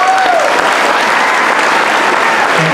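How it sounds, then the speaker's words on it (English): Loud, continuous applause from a crowd at a high school graduation ceremony, dense clapping sustained throughout. "they deserve another round of applause"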